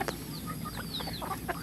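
Free-range village chickens on a traditional kampung poultry farm cluck in short repeated bursts, several birds overlapping at moderate distance against a constant background hiss.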